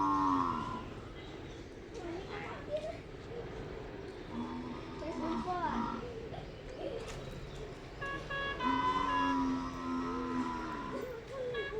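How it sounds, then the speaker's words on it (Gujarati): Tethered cattle on a village farm beside a wheat field moo several times, moderately near, with birds calling and faint voices in the background. "સામે ઢોર બાંધ્યા"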